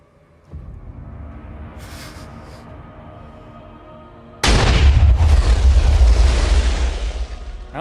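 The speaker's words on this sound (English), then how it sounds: "whatever TNT's already been triggered will still be exploding" In Minecraft, TNT detonates with a sudden loud, close explosion that erupts after a stretch of low rumbling, then a thick roar that lingers and slowly fades.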